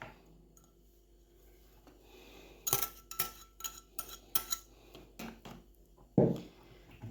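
A fork beats eggs with melted margarine in a bowl, metal clinking in short bursts of quick taps and scrapes, close and fairly quiet, after a near-silent start.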